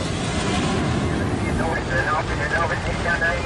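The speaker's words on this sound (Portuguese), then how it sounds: "Às 11h42, o avião decola." A loud, continuous jet engine roar fills the scene, with a voice speaking over it as the airplane accelerates.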